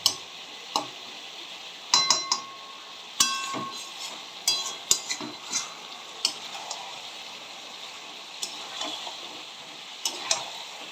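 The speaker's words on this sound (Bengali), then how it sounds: "আমি এখন এটা অনেকক্ষণ ধরে ভালো করে কষবো।" Chicken curry with potatoes and tomato being sautéed in a pan, a low sizzle under frequent sharp clacks and scrapes of a spatula stirring at an uneven pace.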